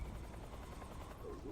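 Helicopter in Metal Gear Solid 3: Snake Eater HD Remake, a steady low rotor drone with continuous whirring, fairly close and even in level throughout, no talk over it.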